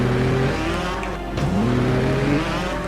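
A motorbike engine revs and climbs in pitch as it accelerates hard in the racing game Trials Evolution, loud and close, with a brief dip before surging again.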